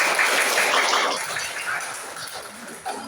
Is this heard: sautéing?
no